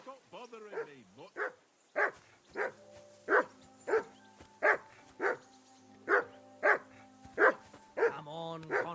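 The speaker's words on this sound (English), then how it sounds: "I assume you can hear that damn dog of yours barking." A dog in a medieval-themed video game barks repeatedly in a steady rhythm of short, sharp barks, close and moderately loud, with a brief whine at the start.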